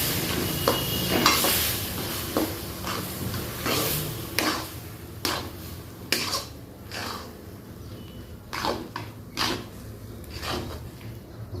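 Semolina is stirred and roasted in a pan, with repeated scraping strokes of a spoon over a faint sizzle in an irregular rhythm, close and fairly loud, with no talk.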